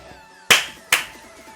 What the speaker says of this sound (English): eating Pop-Tart made me clap like a happy boy